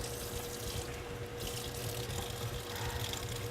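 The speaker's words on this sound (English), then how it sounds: "I need to get some hot water." Hot water running from a kitchen tap while preparing a salt solution for baking white almond cupcakes, a steady broadband rush that continues throughout at close range with no talking.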